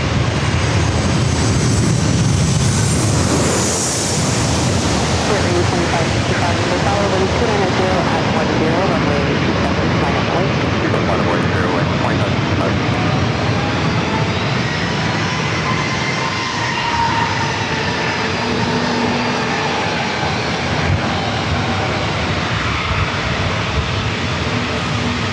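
A jet airliner bound for Las Vegas roars at San Diego airport, its engine noise swelling and shifting over a long pass with whining tones, loud and sustained, with occasional talk underneath.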